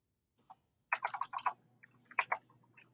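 Keys clatter on a computer keyboard in two quick flurries of rapid clicks, a short pause between them, close and crisp with a faint steady hum underneath.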